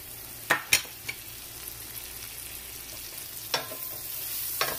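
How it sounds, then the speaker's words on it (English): Onions and garlic fry in a pan with a soft steady sizzle, interrupted by a few sharp clatters of stirring utensils, close and moderately quiet with no talking. "I always like to put my garlic first and fry it first before the onions."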